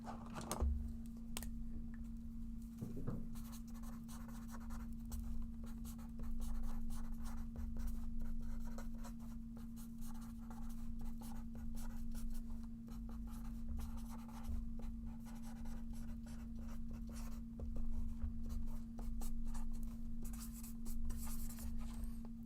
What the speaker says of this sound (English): Let me sign this for Sarah.